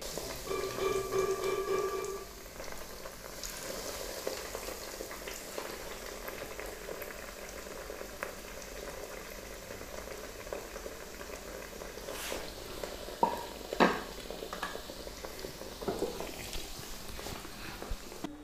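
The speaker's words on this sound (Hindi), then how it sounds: "मैंने अंडा और ब्रेड क्रम लगा के इसे तैयार कर लिया है और अब इसे मैं फ्राई करूँगी" Egg- and breadcrumb-coated chicken pockets fry in oil with a long, steady bubbling hiss, a couple of brief utensil taps midway and no voices.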